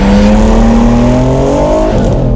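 A 1999 Nissan Skyline R34 GT25 engine revs loud and close, its droning pitch climbing steadily before dropping off near the end, with no talk over it.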